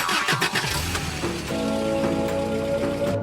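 A car engine cranks and catches, settling into a steady idle with rain falling around it; the sound is close and alone, with no voices.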